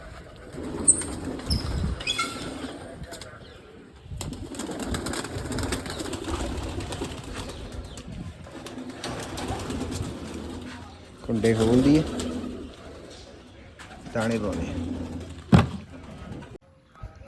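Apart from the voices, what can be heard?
hungry pigeons cooing and flapping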